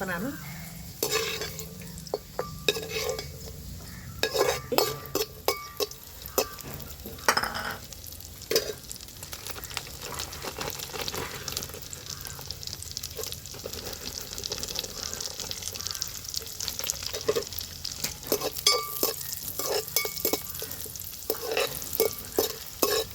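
Cashews frying for carrot halwa crackle and sizzle in hot fat close by, stirred with a string of sharp scraping clicks. The sound is continuous and busy across the whole stretch, with no talking.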